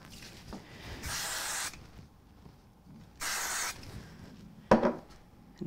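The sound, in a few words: spray glue being sprayed onto card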